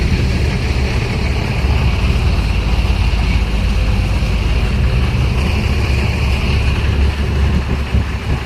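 A ferry engine drones steadily as the vessel crosses the Sugandha river between Shatpakia and Nalchiti, a loud continuous low rumble mixed with water wash, with no one talking.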